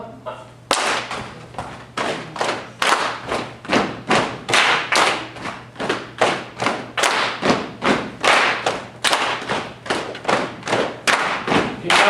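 Audience clapping in a rhythmic phasing exercise, two groups of hands striking a steady repeating pulse that shifts against itself, loud, close and continuous with no talk.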